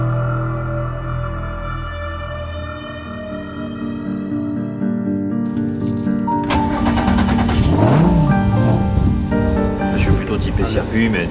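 A Renault Twin'Run concept car on a circuit for its first run, its mid-size engine humming steadily before revving sharply upward and surging in repeated bursts, loud and close.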